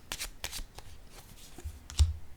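Cards handled and laid down on a table during a tarot-style reading, a few soft close papery flicks and brushes ending with a slightly firmer tap, quiet and alone without talk.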